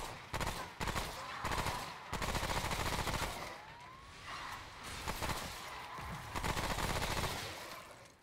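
Gunfire during a boss fight in the video game Remnant: From the Ashes, dense rapid bursts of shots mixed with other game effects, fairly constant throughout with little talk.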